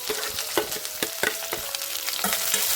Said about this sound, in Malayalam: അതിന് മുമ്പ് തന്നെ നന്നായിട്ടൊന്ന് എണ്ണയ്ക്കകത്ത് കിടന്ന് വഴറ്റിയെടുത്താൽ മതി